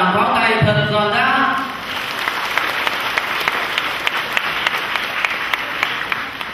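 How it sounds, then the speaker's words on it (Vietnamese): A church congregation breaks into a burst of applause welcoming priests at a parish ceremony, with brief voices and music at the start before dense, steady clapping carries on for several seconds. "chúng con xin kính chào quý cha bằng một tràng pháo tay thật giòn giã"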